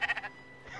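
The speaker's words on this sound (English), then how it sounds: "So, sheep, we meet again." Sheep bleating in the video game Spiritfarer, a few short bleats in quick succession at the start, then fading into a quiet, sustained game ambience.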